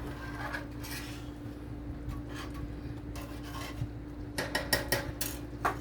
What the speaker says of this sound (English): The more you stir it around, the more it will thicken.